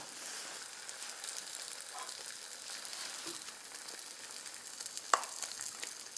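Egg-soaked bread slices for French toast fry in a pan with a soft, steady sizzle and hiss, fairly quiet and close, with an occasional faint tick of a utensil.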